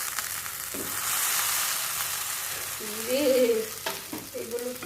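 Boiled pasta is stirred into vegetables frying in a pan, giving a steady close sizzle with scraping stirs and a few clinks of a utensil against the pan.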